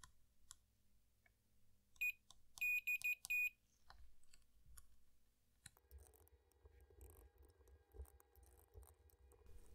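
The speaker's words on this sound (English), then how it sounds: "I'm going to use my multimeter to check all the contacts." Short, high electronic beeps from a multimeter checking the contacts of an N64 game cartridge come in a quick cluster of four or five, between faint clicks and handling noise in a quiet room.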